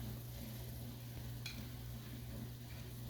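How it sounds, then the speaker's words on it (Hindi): Rice added to a pan for chicken and vegetable fried rice, a quiet continuous sizzle with soft stirring and one brief scrape partway through. "अब इसमें मैं ये चावल डाल रही हूँ।"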